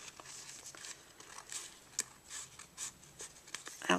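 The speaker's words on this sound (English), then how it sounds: "So I'm just going to trim this here." Paper being trimmed for personalized coasters: soft scraping and cutting strokes close by, with light rustles and a few crisp snips, all fairly quiet.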